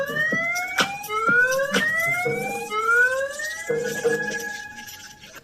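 A loud electronic alarm wails continuously, its pitch sweeping up in repeated rising tones over several seconds.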